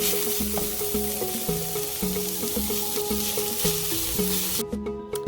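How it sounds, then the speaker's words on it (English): Garlic and onion fry in a pan for a spaghetti and meatball sauce, a steady close sizzle broken by regular stirring knocks, with no one speaking. "Then I'm going to add my garlic to it, because garlic tends to be bitter if it's overcooked."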